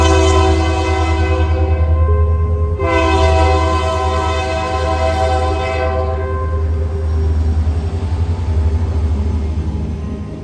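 Freight train led by two GP60 locomotives passing with a loud horn, two long blasts separated by a brief gap, over a steady low rumble of engines and rolling cars.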